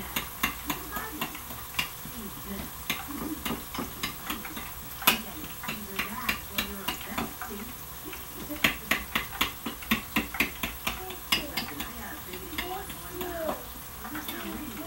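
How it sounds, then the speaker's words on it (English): Pork chops frying in a pan, giving a steady sizzle with frequent clicks and taps of utensils against the pan, while a person talks over the cooking. "Now what we can do is we can now put our pork chops on."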